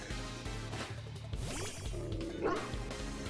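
Dog-like Pokemon cries from a Pokemon video game, a few yelping bow-wow barks with whimpery pitch sweeps over steady game music, loud and close, no talking.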